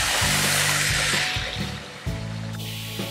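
Water is poured into a pan for sugar syrup while making shahi tukda, a close, continuous liquid splash and trickle with a few clinks of utensils.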